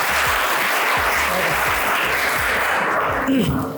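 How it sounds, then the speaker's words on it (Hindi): Students applaud in a school classroom, a loud, dense wash of clapping that fills the whole stretch and tapers slightly near the end, with no talk over it. "पहले तालियां इस पे भी बजनी चाहिए।"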